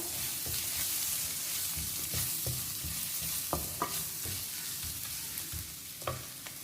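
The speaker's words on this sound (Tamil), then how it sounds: "இந்த ஸ்பைசஸ் எல்லாத்தையும் நம்ம லைட்டாக எண்ணெயில் ஃப்ரை பண்ணிக்கலாம்" Chilli powder and turmeric frying lightly in oil, a close, continuous crackling sizzle with repeated spatula stirs and scrapes knocking against the pan throughout.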